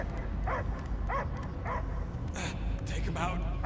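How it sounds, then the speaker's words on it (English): Yelping, whimpery dog barks in the Guardians of the Galaxy video game come in a few short bursts, layered under steady game voices and background sound. "I hear only barking"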